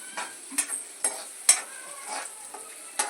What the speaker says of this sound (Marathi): आपण उडद डाळाची थोडीशी फोडणी दिलेली आहे नंतर कांदा ऍड केलाय